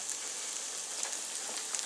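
Garlic frying in a pan for shrimp fried rice: a soft, steady sizzle with faint crackling pops, close and continuous, with no talking.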